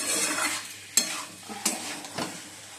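Boiled potatoes tumble into a hot frying pan and get stirred, with a steady sizzle of oil beneath three sharp scraping strokes of the spatula against the pan, close and fairly loud, no talking.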